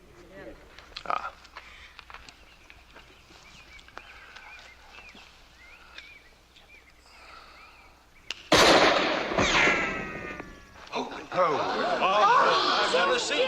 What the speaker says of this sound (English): I've never seen shooting like that.